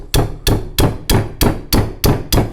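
A wrench is tapped eight times in steady rhythm to tighten a turbo nut on a Lancia Delta Integrale, each strike a sharp, close metallic knock.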